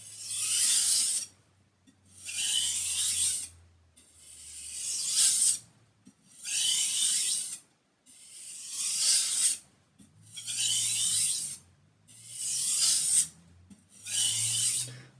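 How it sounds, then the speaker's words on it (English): A knife blade is drawn across a coarse water stone in eight even, gritty rasping strokes, each lasting about a second and a half with brief quiet gaps between, close and moderately loud with no voices. "so that was 4 levels of pressure on the coarse stone"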